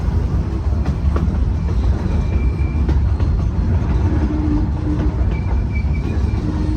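Cumbres & Toltec Scenic Railroad K36 number 484, a 3-foot narrow gauge steam locomotive, arriving with its train: a continuous low rumble of rolling cars with faint metallic squeals and clanks, steady and fairly close.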